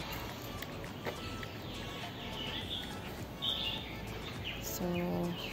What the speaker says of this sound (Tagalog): dito talaga maraming ibon guys